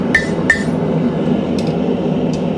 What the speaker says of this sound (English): We're just going to come, hammer down the length of the anvil.